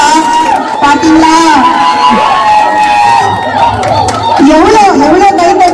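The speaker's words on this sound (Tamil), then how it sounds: "எவ்வளவு கைத்தட்டல், எவ்வளவு விசில் பாருங்க" An audience at a saree competition erupts in sustained applause, loud whistles and cheering, with a dense crowd roar and voices mixed in throughout.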